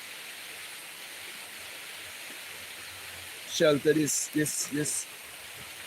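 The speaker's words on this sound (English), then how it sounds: "I hope the tree shelter me enough, you know, from this rain." Steady rain falls outdoors around a tree, a constant close hiss of drops running through the whole stretch, with someone speaking briefly near the end.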